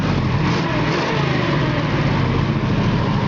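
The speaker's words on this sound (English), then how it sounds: "It's got a good sounding engine to it." The engine of a 1968 Camaro SS convertible runs steadily and loudly up close, a continuous rumble with no breaks.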